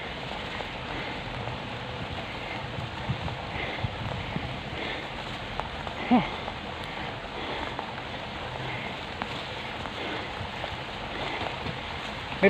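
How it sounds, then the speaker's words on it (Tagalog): Steady rain falls outdoors near a dam, a dense continuous hiss of drops with a few brief knocks and no clear talk over it. "Mas maganda na itong ulan kasi init."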